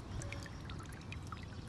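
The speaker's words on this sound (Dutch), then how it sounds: "Een beetje meer water erbij doen." Water poured into a small container holding young dragonfly larvae, a short, soft, continuous splashing trickle heard close and alone.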